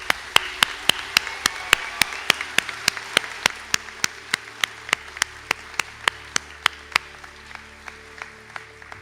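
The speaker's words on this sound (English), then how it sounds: "So if we could have a round of applause for those candidates just called." Sparse rhythmic clapping at a college conferring ceremony, sharp, evenly spaced claps repeating steadily over a faint murmuring hall, sounding like a few hands or a single person clapping in time.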